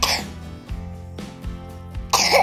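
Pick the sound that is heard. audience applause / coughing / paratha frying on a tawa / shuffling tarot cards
coughing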